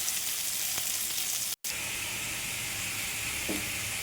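Cauliflower fries in hot oil with salt and turmeric, a steady close sizzle with a few brief stirring scrapes, no voices.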